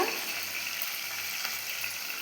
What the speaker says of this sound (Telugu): ఇది వేడెక్కాక పచ్చిమిరపకాయలు వేగిన తర్వాత